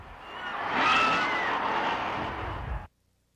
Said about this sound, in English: and now the most exciting event of all, monster truck racing.